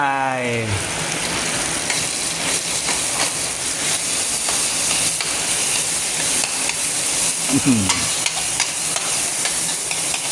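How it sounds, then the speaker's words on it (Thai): Minced pork being stir-fried with chili and garlic for a Thai basil pork dish: a steady, loud, dense sizzle with hiss and scraping stir sounds that run the whole time, and a short voice at the start and near the end. "ใส่หมูลงไปคว่ำหมูให้มันสุก"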